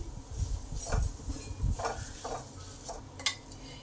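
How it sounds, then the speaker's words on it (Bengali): Grated gandharaj lemon zest being stirred into spices frying for dal, repeated scraping strokes of a spoon against the pan over a low sizzle, close, with a sharp clink near the end. "এবার এটাও একটু ভালো করে এই মশলার সাথে মিশিয়ে নিই।"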